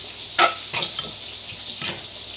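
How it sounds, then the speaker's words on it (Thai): Tam jaew chili dip with pork being stirred in a pot, with three or four distinct scraping strokes over a soft, steady background hiss, close up and without any talk. "แล้วคนดีกว่าให้มันดีเนาะ"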